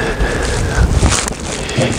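Steady broadband wind rumble buffets the microphone outdoors on a windy day of cold-smoking cheese, with gusty low-end thumps swelling and easing.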